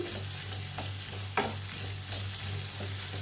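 Sliced onions sizzle steadily in hot oil with ginger-garlic paste and turmeric for a village-style puri curry, with a few soft scraping stirs and one sharper clack of the spoon against the pan; no talking.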